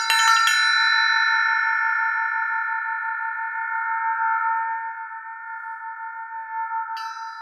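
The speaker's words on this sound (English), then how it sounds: "I don't know why this is called an elephant bell, but so here it is." A single strike of an elephant bell rings out clearly and sustains a long, pulsing metallic tone that slowly fades, with a light tap near the end.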